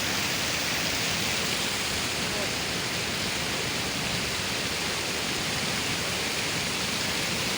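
Heavy rainwater rushing down a mountainside storm drain in Murree during a downpour, a steady dense roar of flowing water close by without a break, and no voices.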